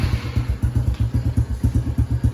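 A Honda CRF110 dirt bike engine, a lightly used small bike, runs at a steady idle with a fast, even chugging putter close by, alone with no voices.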